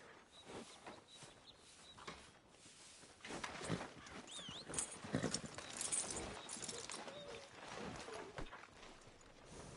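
Horse hooves walk softly in Red Dead Redemption 2, faint irregular clopping amid birdsong and outdoor ambience, a little louder in the middle.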